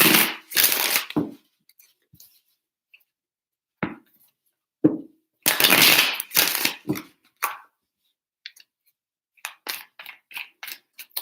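Tarot cards riffle and shuffle in several quick bursts separated by pauses, close and crisp, with soft taps and slides of the deck between.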